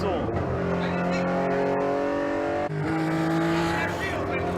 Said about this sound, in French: on met bien du son moteur parce qu'on a un échappement libre.